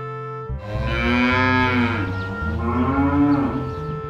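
A dairy cow lows in two long drawn-out moos, loud and close, with a short pause between them and no talk.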